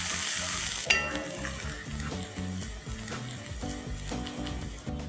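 Green garlic and finely chopped green chilies fry in a pan and are stirred, giving a steady sizzle with repeated scraping and clatter of a spoon against the pan; no one speaks.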